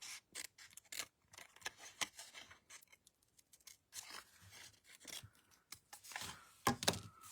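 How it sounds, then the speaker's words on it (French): Scissors snip through paper for a pop-up birthday card, cutting along the fold line in a series of short, quiet, irregular crisp cuts with pauses between them, no talk. "on découpe directement sur la ligne de pli"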